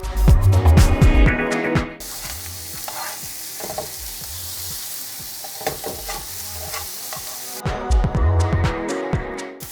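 Prawns frying for a Sri Lankan prawn curry in coconut cream, a steady sizzle in the pan broken by bursts of stirring and scraping at the start and end.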